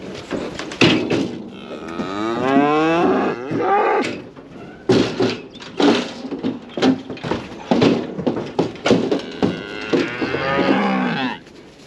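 Cattle at a farm moo repeatedly in long, loud, drawn-out calls close by, separated by brief pauses, with several lowing cries overlapping toward the end.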